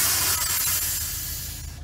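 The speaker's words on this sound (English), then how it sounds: "So an important thing to remember for bear spray is that it actually comes out 70 miles per hour." A bear spray canister discharges in one continuous, forceful hiss, loud and close at first and then gradually thinning out near the end of the burst.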